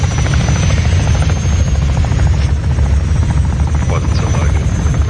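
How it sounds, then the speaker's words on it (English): A helicopter in the Warzone 2.0 game comes down in a crash landing: a loud, steady rotor thrum and engine drone that fills the whole clip with little change, while game sounds and voice chat run beneath it. "the helicopter like tried to crash land"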